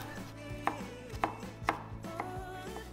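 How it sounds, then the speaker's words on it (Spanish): A knife chops a carrot into thin strips on a cutting board for lettuce kimchi: about five steady, evenly spaced strikes, close but fairly quiet, with no talking. "Ahora cortamos la zanahoria. Cortamos en tiras finas,"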